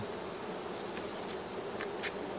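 A wild honeybee swarm buzzes in a constant, even drone, fairly quiet and unbroken, with no voices over it.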